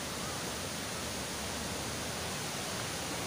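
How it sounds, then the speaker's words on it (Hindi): Canal water flowing near the Ravi river in Punjab, a steady, even rushing hiss with no breaks, fairly faint and without voices. "बहते हुए पानी की आवाज़ कितनी सुकून दे"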